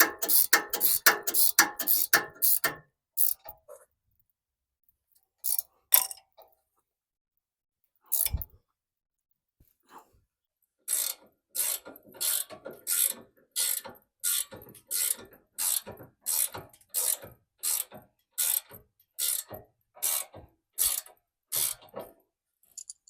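A hand ratchet tightens the nut on a front link of a Toyota FJ Cruiser. Close, crisp bursts of rapid clicking come in several runs separated by pauses, ending in a long series of evenly spaced strokes.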